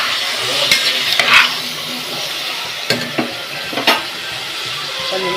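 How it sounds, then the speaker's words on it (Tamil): Whole spices, cardamom and ginger, temper in hot oil in a pan for Chettinad mushroom kulambu, a steady sizzle broken by several sharp spoon scrapes as the mixture is stirred. "வந்து நல்லா கிளறிடணும்."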